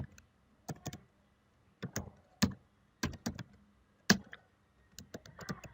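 Someone types code on a computer keyboard, with short clusters of crisp key clicks separated by brief pauses, heard close and alone with no talking.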